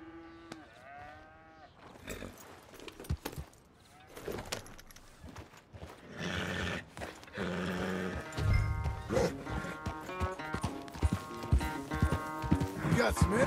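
A horse is ridden in Red Dead Redemption 2, with hoof thuds and clip-clops mixed with cattle lowing and other ranch sounds, growing louder toward the end alongside musical tones and voices.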